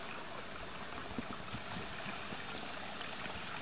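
A jungle stream flows steadily with a soft, continuous watery rush and faint trickling, quiet and even throughout with no voices.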